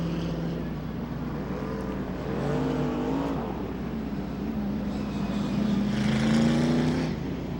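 Race car engine running on the Rockford Speedway oval in 1996, a loud sustained roar with rising and falling pitch sweeps as the car comes back under power and gets back onto the track.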